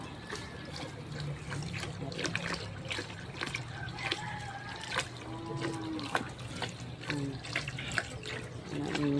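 Spring water from a mountain source flows and splashes steadily with bubbling trickles throughout, and a voice is faintly audible in the background.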